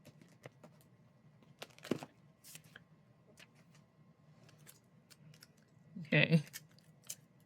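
Scissors trim a paper planner sticker up close. Several crisp snips and small paper rustles are scattered through a quiet room, and one louder, sharper cut comes near the end.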